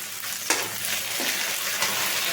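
Crushed ginger and green chillies hitting hot oil with mustard seeds, cumin and curry leaves, a loud close sizzle with sharp crackling bursts as each addition lands, while making potato poha.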